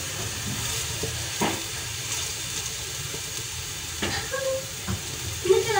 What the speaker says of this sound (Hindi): घी लगाया देसी घी। अब इसको हम थोड़ी देर पका लेंगे।